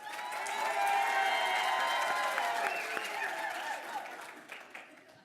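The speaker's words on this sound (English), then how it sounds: "The third sound is applause." A conference audience breaks into applause that swells quickly, holds a broad wash of clapping, then thins out toward the end with a few scattered claps.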